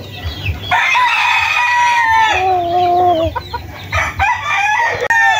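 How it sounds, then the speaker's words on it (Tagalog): A high-action Spangle Hatch broodcock rooster crows loudly and close, the long call drawn out and falling, mixed with throaty clucks and other fowl calling around it on a farm. "ito nga pala yung ating broodcock na high action Spangle Hatch ng Paramazing"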